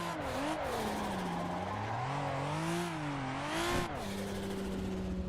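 An Audi RS3's 2.5-liter five-cylinder engine revs up and down repeatedly, its loud, rasping note rising and falling close by, with a brief squeal-like moment near the end.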